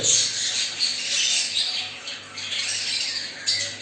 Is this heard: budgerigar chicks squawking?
yes